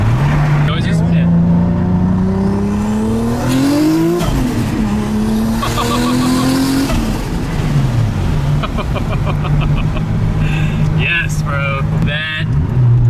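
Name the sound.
HKS 3.4L widebody Toyota Supra engine revving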